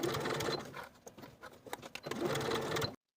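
Sewing machine edge stitching close to an inner fold on the sleeve bottoms of a bias-bound open-front jacket: a loud, rapid mechanical whir with brief pauses, running about three seconds before stopping abruptly.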